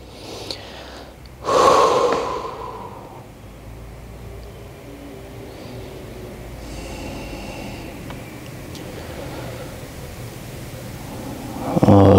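A person in a yoga session with bricks takes a loud, close breath with a sharp gasping inhale. Quieter steady background noise follows, and a second breath comes at the very end.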